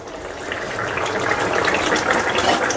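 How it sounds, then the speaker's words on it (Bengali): A pot of rohu fish curry with bottle gourd bubbles over a raised gas flame, a close, steady gurgling and churning that grows slightly louder, with no speech. "মাছটাকে দিয়ে আরেকটু ফুটিয়ে নেব।"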